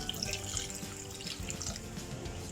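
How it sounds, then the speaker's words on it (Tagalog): Water streams into a cooking pot for tinola, a steady, moderately loud running and splashing of liquid with no pauses, heard alone. "So, lagyan natin siya ng tubig."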